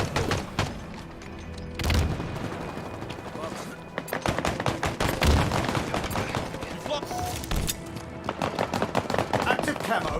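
Sustained machine gun fire and bursts of gunshots in the Halo Infinite video game, loud and dense across the clip with booms, layered under game voices and music.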